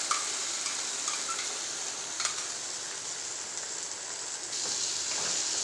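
A spoon stirs ground paste into buttermilk kuzhambu in a pan, giving a steady, soft wet hiss and sizzle with occasional faint scraping clicks, close by and alone.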